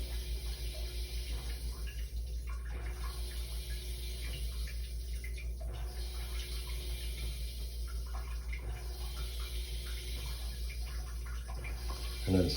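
A Brondell LE99 bidet nozzle sprays water in pulse mode at strong pressure, producing a steady, hissing rush of water with faint rhythmic swells over a constant low hum.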